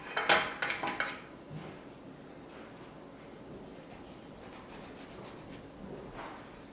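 Grapefruit flesh and juice dumped into a tall blender, giving a brief cluster of wet clattering thuds and clinks at the start, then quiet room hiss with a faint knock near the end.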